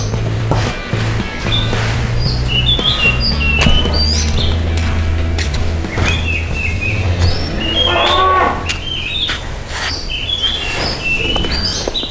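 Cattle moo in a pen, several long low calls close by, with bird chirps scattered over the top and a steady background murmur.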